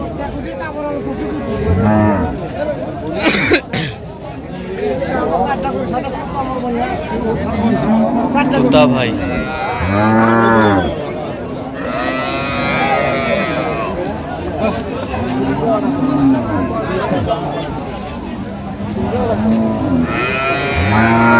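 Dairy cows and calves at Raniganj cattle market in Dinajpur moo repeatedly, several loud close calls rising over busy crowd chatter, with someone speaking briefly.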